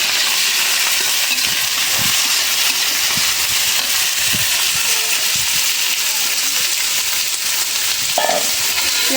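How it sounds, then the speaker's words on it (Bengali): Sliced onions fry in hot oil in a pan for a beef curry, a loud continuous sizzle and hiss close up, with occasional stirring scrapes. "দিয়ে দিলাম পেঁয়াজ"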